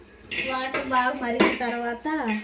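A lid is set onto a cooking pot during home cooking of basmati rice, giving a couple of short metallic clinks while a voice talks over it.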